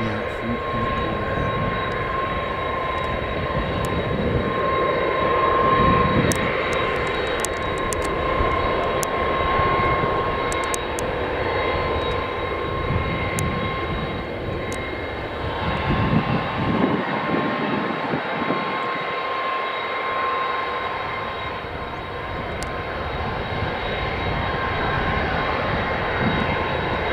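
A USAF KC-10 tanker taxis at RAF Mildenhall, its jet engines producing a steady, loud roar and whine that swells and eases over the length, with talk heard at times.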